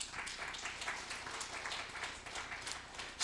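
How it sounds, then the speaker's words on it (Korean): Steady applause from a church congregation fills the space, a dense wash of many hands clapping at an even level throughout. "영광의 박수 돌립니다."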